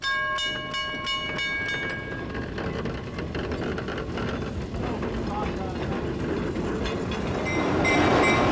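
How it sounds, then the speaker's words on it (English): A diesel or steam train runs on a museum heritage railway, with a steady loud rumbling roll throughout, brief whistle-like tones near the start, and a rising swell of noise toward the end. "a variety of diesel and steam trains"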